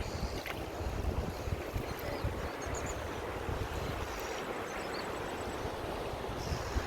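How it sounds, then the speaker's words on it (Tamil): Broadband rushing of flowing water in a cold mountain stream, steady and fairly close with some wind buffeting on the microphone, no voices heard. "அங்கெல்லாம் தண்ணி சத்தம் பயங்கரமாக கேட்குது"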